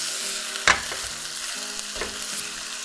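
A fatty mixture with salt and sugar frying in a pan while being stirred, a steady close sizzle broken by a few sharp scraping clacks of the utensil, with no talk.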